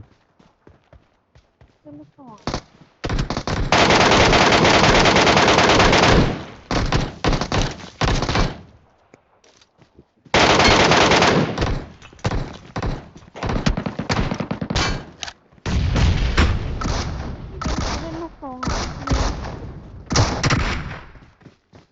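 Enemy gunfire in the video game PUBG Metro Royale, long loud bursts of automatic fire and scattered single shots, with talk in the gaps between the bursts.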